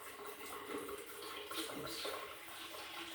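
Water runs steadily from a can into a countertop herb garden, a faint, continuous splashing pour with slight surges and no talk.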